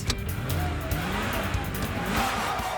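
A race car skids with tire squeal and engine noise that sweeps up and down over a few seconds, loud and close, with faint talking mixed in.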